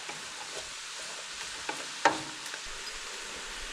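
Onions fry in a pot for a garlic and caramelized onion soup, giving a steady, close sizzle. Occasional soft scrapes of stirring come through, with one sharper knock of the spoon midway.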